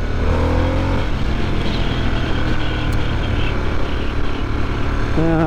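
A Harley Davidson Sportster S cruiser motorcycle, ridden with forward controls along a bay road, holds a steady, loud engine drone with constant wind rush, as if recorded close to the rider.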